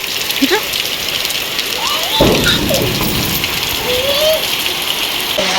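Heavy rain pours and gushes off metal roof sheets in a steady, loud wash, with faint bird chirps scattered on top.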